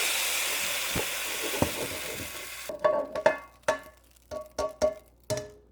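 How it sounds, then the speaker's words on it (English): Beef browns in a hot pan for a slow cooker beef curry: a dense sizzle fills the first few seconds, then drops away into a string of sharp utensil scrapes and knocks against the pan. "We brown up the surface of the beef"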